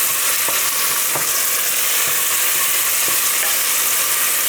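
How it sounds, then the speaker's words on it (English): Freeze-dried mushrooms sautéing in a pan give a steady, loud, close sizzle with a few soft stirring scrapes and no voices. "So we're gonna let those saute for just a minute or two."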